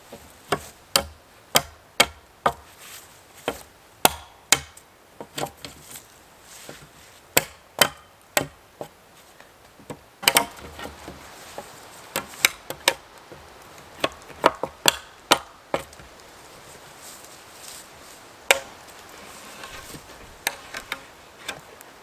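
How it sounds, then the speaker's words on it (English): Dry cedar bark is worked with an old peeler, giving sharp, irregular knocking and scraping strikes that repeat close by against a quiet outdoor background. "Yeah, this stuff's real dry, so it's peeling pretty good."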